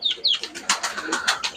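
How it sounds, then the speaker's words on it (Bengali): High-flying pigeons coo nearby in a short, close sequence of soft repeated calls, with a few faint chirps mixed in. "আমি নতুন কিছু কবুতর কালেকশন করছি হাই ফ্লাইংয়ের।"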